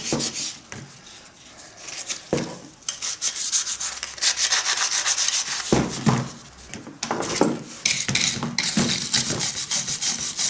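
Sliding surfaces on an antique Millers Falls miter saw are rubbed down to remove burrs, producing close rhythmic rasping and sanding strokes in uneven bursts with brief pauses.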